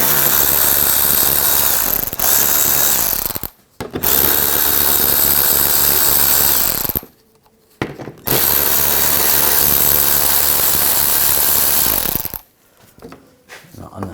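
A power tool with an 8mm socket removes panel fasteners on a 2000-2006 BMW X5 3.0L L6, three loud, sustained whirring runs separated by brief pauses, close and alone.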